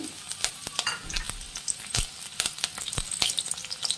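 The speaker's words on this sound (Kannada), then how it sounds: "ಫ್ರೆಂಡ್ಸ್ ಒಂದು ಸ್ವಲ್ಪ ಬೆಳ್ಳುಳ್ಳಿ ಫ್ರೈ ಆಗಲಿ, ಸಾಕು." Garlic fries in oil for Chicken 65, a close, lively crackle of sharp pops and spits over a low sizzle, with some stirring, and no one speaking.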